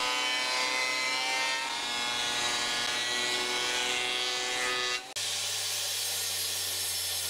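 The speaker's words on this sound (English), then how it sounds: "I resawed it on the bandsaw and ran it through the planer to make it approximately 15 mm thick." Bandsaw resawing oak strips for countertop edging, then a planer thinning them to about 15 mm; a steady loud machine whine with harmonic tones runs throughout, breaking briefly before a second, lower-pitched machine drone continues.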